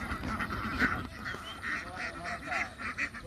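A flock of ducks on a duck farm quacks repeatedly in a rhythmic, noisy chorus, close by and continuous.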